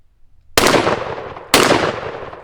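Two loud, close blasts from a Stoeger Double Defense 12-gauge side-by-side shotgun, fired about a second apart, each with a sharp onset and a long ringing decay.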